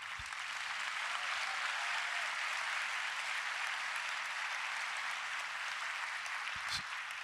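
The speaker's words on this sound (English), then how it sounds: "please clap for that" A summit audience gives sustained applause, a broad, even wash of many hands clapping at a distance, steady from start to finish with only a faint voice or two underneath.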